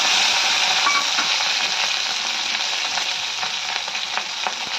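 Green chillies fry in two tablespoons of oil in a kadai, a steady close hissing sizzle with faint crackles running throughout and easing slightly toward the end.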